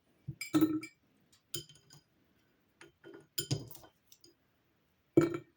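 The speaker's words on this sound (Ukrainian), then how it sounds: "Тепер на дно банки кладу половину часнику цього, що в мене." Garlic cloves dropped into the bottom of a glass jar, producing several clustered glassy clinks and taps separated by silences, close and fairly quiet.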